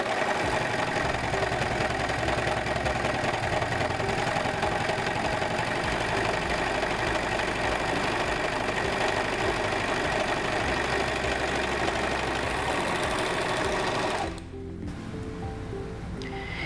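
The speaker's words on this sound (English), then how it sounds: "My fabric goes in front of my presser foot. I'll lower the presser foot lifter and begin sewing." Singer 14CG754 four-thread serger overlock machine sewing fabric, a steady continuous motor whir with rapid stitching hum that runs loud and close, then drops and stops near the end.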